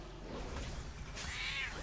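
A cat meows once, fairly close, with a rising and falling cry over a steady low background hum and no talking.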